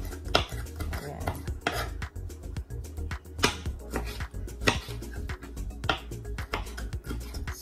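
Onion and tomato being chopped for guacamole, a dense run of quick knife taps and clinks against a board or bowl, close and fairly faint.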